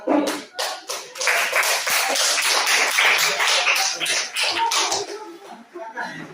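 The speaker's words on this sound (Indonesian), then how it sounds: "Ya, tepuk tangan." A classroom of students claps hands together during a teacher's lesson, steady brisk applause lasting several seconds with some voices mixed in, fading slightly near the end.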